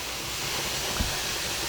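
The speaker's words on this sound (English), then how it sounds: "you got good steady steam coming out here" Steady steam hisses from a pressure canner used for canning chicken, a constant broadband rush at close range with one faint low bump midway and no speech.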